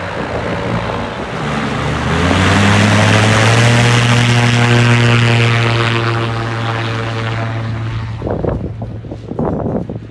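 A helicopter passes overhead at a desert safari site, its engine and rotor drone swelling loud and close, then fading as it moves off, with a few scattered knocks near the end.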